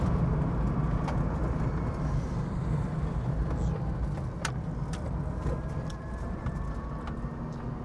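A Netto E-Lazzy light electric vehicle drives along a road at rising speed, a steady loud rumble of tyres and wind with a faint whine, continuous throughout.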